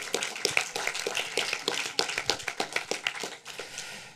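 Audience applause for film director Anatol Schuster at a screening talk for Frau Stern, a steady patter of many hands clapping with sharp individual claps standing out, moderately close, lasting the whole stretch without speech.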